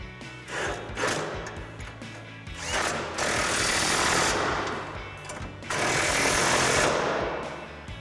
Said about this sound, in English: Now I'm going to take a 14mm socket to tighten that down.